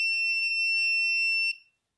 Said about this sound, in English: A buzzer is turned on to indicate that the message is changed.